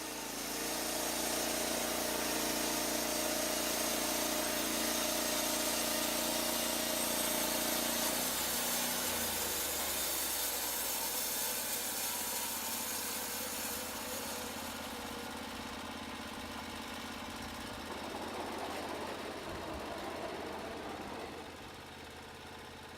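A Lumber Pro manual sawmill engine runs steadily and loud throughout, a continuous droning hum with a shift partway through as the throttle and load change, easing slightly toward the end.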